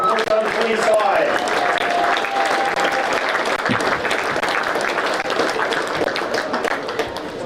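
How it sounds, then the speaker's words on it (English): A crowd at a rugby match applauds the Wairarapa Bush under-20 side with dense, sustained clapping that tapers off gradually, with some voices mixed in. "Huge round of applause, ladies and gentlemen, for our Wairarapa Bush under-20 side."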